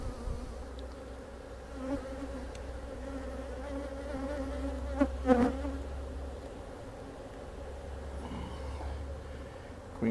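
Honey bees swarm and buzz steadily around an open double nuc hive, a dense continuous drone close by with a few louder passes near the middle and no talking.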